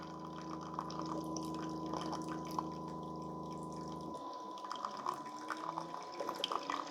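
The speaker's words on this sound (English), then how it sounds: "that last little bit of water it runs through" Keurig K-Café Smart machine pushing its last bit of water through, a steady pumping hum with faint dripping that cuts out abruptly partway, leaving soft trickles and drips close by.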